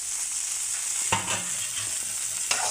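Brinjal and okra fry in oil with a loud, constant hiss, and a couple of sharp stirring clinks stand out against the steady sizzle.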